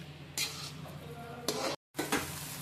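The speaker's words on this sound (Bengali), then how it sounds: "এবার আমি সব ভালোভাবে মিশিয়ে নিচ্ছি" A pot of taro curry with green chillies being stirred, a spoon scraping and clinking against the pot in a few distinct bursts over a steady background hum, with a brief gap partway through.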